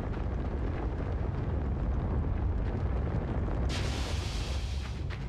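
Fire burning in LIMBO, a steady, dense roaring rumble filling the whole stretch, loud and close, with a brighter hissing flare joining in for the last second and a half.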